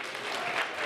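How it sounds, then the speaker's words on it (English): Audience applause fills a gala dinner for a summit welcome event, a dense steady wash of clapping that holds at an even level through the short moment with no voices over it. "Do you want to give yourselves a round of applause?"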